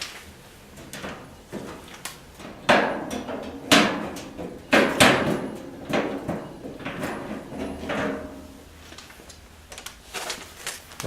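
The cover panel of a Housewarmer 15000 BTU furnace, hung on hinges at the bottom and held by magnets at the top, comes off with several loud metallic knocks and clunks, then softer scraping rattles.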